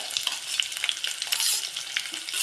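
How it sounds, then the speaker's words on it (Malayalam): Jackfruit seeds and green chillies sauté in a pan for a prawn theeyal, giving a close, bright crackling sizzle broken by quick stirring scrapes and spatula taps, with no voices. "എല്ലാം ഒരുമിച്ച് അങ്ങിട്ട് വഴറ്റാം നമുക്ക് ചക്കക്കുരു പച്ചമുളക്"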